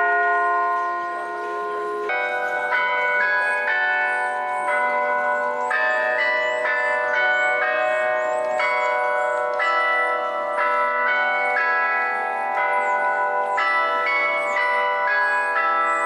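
Melodic bell chimes ring out from the Central Park Zoo gate clock at one o'clock, a steady sequence of clear, sustained tones changing pitch every half second or so, with no talking.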